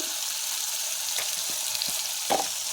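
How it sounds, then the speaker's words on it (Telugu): Curry leaves and turmeric frying in oil in a pan for coconut curry, a steady close sizzle with a few sharper crackles and stirring taps. "వేగుతుందండి ఇందులో కొంచెం కరివేపాకు వేసుకుందాము ఇందులో కొంచెం పసుపు వేసుకుందాము"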